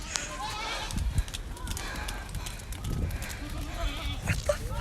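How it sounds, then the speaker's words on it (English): A herd of about 200 goats stampedes down a residential street, scattered bleats and trampling hooves rising and falling at moderate distance, with people talking faintly. "There's a stampede of like 200 goats just running down our"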